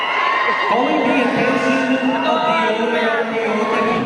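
A crowd at an indoor event shouts and cheers, a dense roar of many voices with whoops and yells, close and loud throughout, with mixed chatter.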